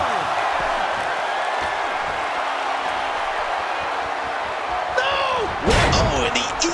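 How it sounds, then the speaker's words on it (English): Body slam in the WWE 2K16 wrestling video game: a heavy thud lands on the ring canvas near the end, over a constant arena crowd roar, with a commentator talking throughout. "Nothing like a great body slam."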